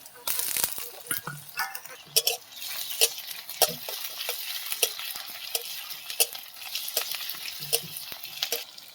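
Onions frying in oil with ginger-garlic paste, a crackling sizzle punctuated by frequent sharp spatula scrapes and taps against the pan, fairly close and irregular throughout, with no voice over it.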